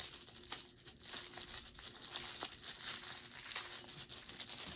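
Tissue paper crinkles and rustles steadily at close range while a handmade candle is unwrapped from its package, with a few sharper crackles and no talking.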